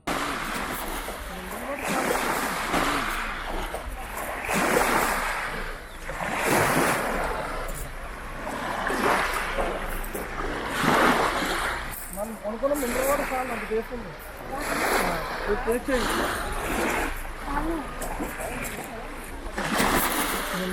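Small waves of the Sea of Galilee lap rhythmically against the shore in repeated soft surges and washes, close by, with intermittent wind noise.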